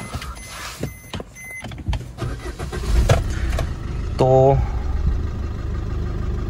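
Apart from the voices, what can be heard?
diesel car engine started with push start button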